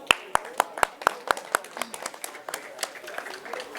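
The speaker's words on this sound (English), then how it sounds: "So please give her a round of applause as well." Clapping for a prize winner at an ICT summit award ceremony, a handful of sharp, evenly spaced claps close by, thinning into softer scattered applause with a voice faintly in the background.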